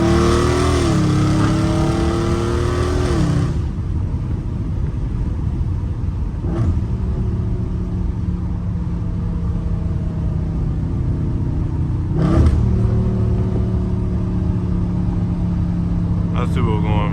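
A Dodge Charger Scat Pack's engine rumbles and revs steadily while driving, holding a close, continuous drone with rising and falling pitch, and a voice talks over the first few seconds.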